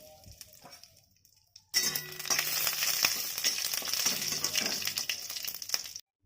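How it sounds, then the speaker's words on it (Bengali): Curry leaves frying in ghee in a wok, a bright crackling sizzle that bursts on suddenly after a quiet moment, holds steady and close with small pops, then stops. "কড়াই ঘি দিয়ে আমি কারি পাতাটা ভেজে নিচ্ছি।"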